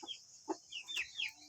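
Free-range village chickens (ayam kampung) in a coop give several soft, scattered clucks and short calls, faint and fairly close, with no talk.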